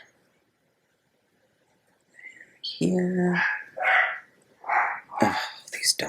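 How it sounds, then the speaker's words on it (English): Dogs bark several times in short, loud bursts nearby after a quiet start, with a brief spoken word among them. "Oh, these dogs."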